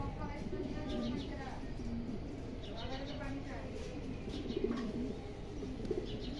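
Racer pigeons coo in a loft, repeated rolling throaty calls rising and falling over a few seconds, with a person talking over them throughout.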